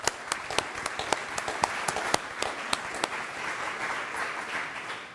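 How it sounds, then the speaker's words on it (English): A convention audience applauds a panel, with dense continuous clapping and crisp individual claps standing out above the wash, steady and moderately loud throughout. "Please, a round of applause for our amazing panel."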